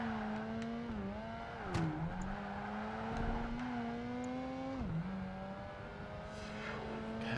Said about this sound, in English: This is a long track for a not stupidly fast car